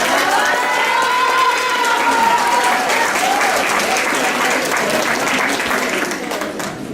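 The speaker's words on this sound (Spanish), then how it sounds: "Les pido un aplauso para el presidente." An audience at a social work panel discussion breaks into loud, sustained applause for the president, with cheering and crowd noise mixed in. The clapping holds steady for several seconds before easing slightly at the end.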